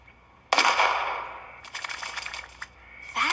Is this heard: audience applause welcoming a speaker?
no